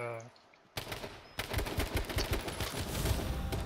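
Rapid gunfire in the survival shooter H1Z1 erupts suddenly after a quiet moment and continues as dense, loud automatic bursts with overlapping shots until the end.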